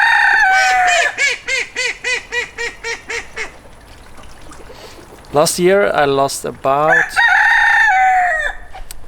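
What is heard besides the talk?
chickens and rooster crowing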